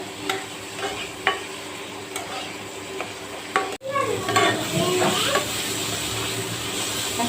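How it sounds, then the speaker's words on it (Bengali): Cumin and chili powder sauté in a pan for prawn curry, a constant frying sizzle with scraping stirs and a sharp clatter partway through. "একটু জিরার গুঁড়া আর মরিচের গুঁড়া এইটা এখন একটু কষিয়ে নেব মশলাটা"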